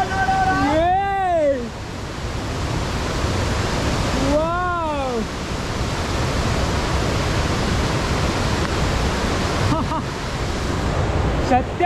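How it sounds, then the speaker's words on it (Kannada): Vajrai Waterfall in Maharashtra roars as a constant, loud wash of falling water, with a couple of brief whistling tones cutting through early on and no talk over it. "ಇನ್ನೇನು ಸ್ವಲ್ಪ ಹೊತ್ತಲ್ಲೇ ನಿಮಗೆ ಈ ವಾಟರ್ ಫಾಲ್ಸ್ ಹೆಂಗಿದೆ ಅಂತ ತೋರಿಸಿ"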